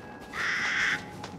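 A crow caws once, a loud drawn-out harsh call over a low eerie ambient bed in the game Resident Evil Village, with a faint second croak just after.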